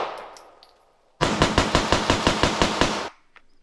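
A 10 millimeter machine gun fires a single close burst of about a dozen rounds in quick even rhythm, loud and sharp, lasting nearly two seconds before silence.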